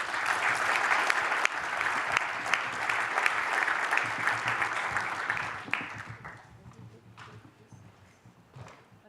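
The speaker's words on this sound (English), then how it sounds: "I would like to ask for an applause for our panelists" At a general assembly conference, an audience gives the panelists a warm round of applause that holds steady for several seconds, then thins out and fades to scattered claps.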